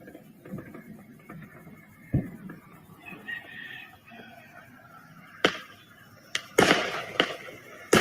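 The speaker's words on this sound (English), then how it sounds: "I'm getting like fireworks before fireworks happen." Fireworks go off down the street in a scatter of sharp bangs and cracks, some distant and muffled, others louder, spaced irregularly over a quiet outdoor background.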